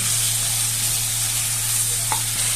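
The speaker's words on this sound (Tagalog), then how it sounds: "Tapos, halo-haluin lang natin." A pot of chicken tinola with pepper sizzles steadily while it is stirred, giving a constant, close frying hiss with a faint clink near the end and no voices.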